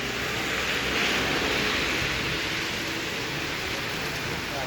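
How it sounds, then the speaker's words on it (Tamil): Heavy rain pouring down in Vadavalli, a steady, loud, unbroken hiss of falling water that stays even from start to finish. "கண்டினியூஸாக மழை பெஞ்சிக்கிட்டே தான் இருக்குமே"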